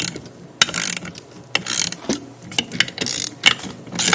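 Ratchet turning a nut on a Dodge Charger AWD front shock during shock replacement, a series of quick bursts of close, sharp metallic clicking separated by short pauses.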